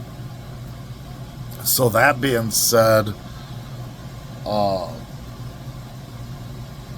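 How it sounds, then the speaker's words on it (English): A boat engine idles in neutral with a steady low hum running throughout, while someone talks briefly over it. "when the engine is at an idle, it sounds like it's running smooth"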